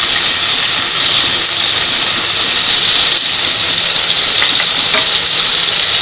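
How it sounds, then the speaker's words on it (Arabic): Ghee or butter melting in a pan, a loud, steady hissing sizzle that fills the whole stretch without pause, close and constant with no talking. "اول ما السمنه تسيح معانا او الزبده تسيح معانا"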